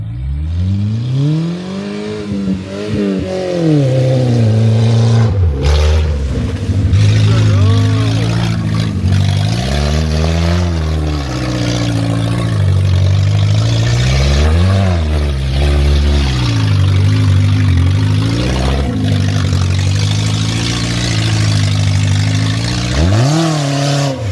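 A Citroen car engine revs up and down over and over while driving in circles, loud and close throughout, the rising and falling pitch sweeping repeatedly with faint talk mixed in.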